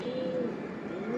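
A silver pigeon coos softly, a low steady hum-like call over a noisy background, brief and close.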